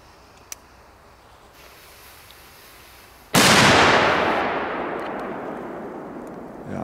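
After a quiet stretch with a small pop, a single loud Polish firecracker bang erupts nearby, its blast rolling off into a long, fading echo.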